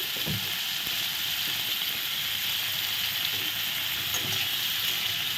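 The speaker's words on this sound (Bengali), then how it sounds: "লঙ্কা দিয়ে একটু ভালো করে নেড়ে নিলাম" Dried red chillies frying in ghee with salt in a pan for butter paneer masala, a dense, even sizzle that holds steady and close throughout, with faint stirring beneath.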